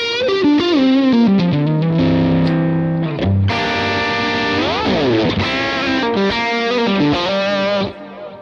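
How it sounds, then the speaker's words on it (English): Electric guitar through a Vox AC30 Top Boost amp model in Line 6 Helix, loud and close, with gritty edge-of-breakup tone, fast runs, bends and sustained chords played continuously without talking. "the Vox AC30 top boost"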